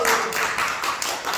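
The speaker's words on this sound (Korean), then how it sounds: "박수!" Church audience clapping during a youth group presentation, a short burst of steady, fairly dense handclaps throughout with a faint voice underneath.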